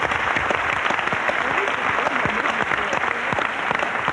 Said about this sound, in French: Je crois, mesdames, messieurs, qu'on peut applaudir cette performance d'une actrice française.